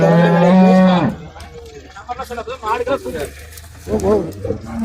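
A cow lows loudly and close by at a busy cattle market in Tamil Nadu, a long sustained moo followed by people talking over the background din.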